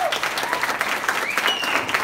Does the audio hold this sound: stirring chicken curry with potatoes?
no